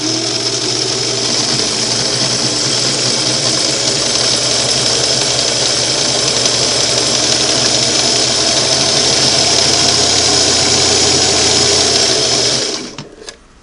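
A Singer Model 513 sewing machine winds a bobbin, a loud, steady motor whir held at a constant moderate speed for about twelve seconds before spinning down and stopping, close up with no voices.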